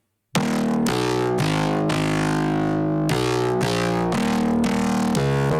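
A distorted synthesizer bass with a second sine oscillator tuned two octaves up plays a loud riff of sustained, buzzing notes, starting abruptly after a short silence and changing pitch in a steady, chopped rhythm.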